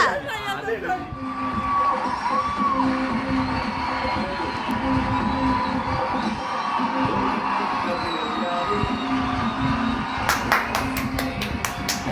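Audience applause at a victory celebration: a steady wash of clapping and crowd chatter under a voice speaking over it, with a burst of sharp rhythmic claps near the end.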